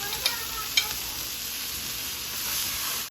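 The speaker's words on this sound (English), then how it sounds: "You want to sear those for 2 minutes on each side." Pork chops searing in a hot pan: a steady, close, crackling sizzle with two quick sharp clinks early on, alone without talk, cutting off abruptly at the end.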